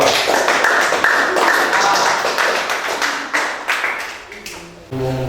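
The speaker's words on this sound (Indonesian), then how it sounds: "Tepuk tangan yang meriah untuk kelompok 2." Lively applause for a student group at a classroom presentation, loud and close with dense clapping that thins toward the end as a voice begins speaking.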